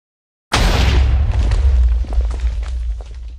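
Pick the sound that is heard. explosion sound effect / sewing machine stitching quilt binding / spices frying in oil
explosion sound effect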